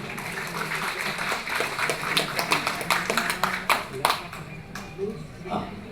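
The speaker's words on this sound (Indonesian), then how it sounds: "Tepuk tangan Bapak Ibu." An audience at a hotel product testimonial gathering claps loosely, building to a denser burst of close individual hand claps mid-way before thinning out, with voices talking underneath.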